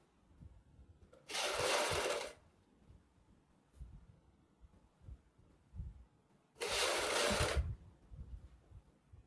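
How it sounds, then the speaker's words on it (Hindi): Sewing machine stitching a kurti neckline in two short, separate bursts of about a second each, with quiet handling sounds between them. "जो ये हमारी सिलाई है, सिलाई के ऊपर हमने सिलाई लगानी है।"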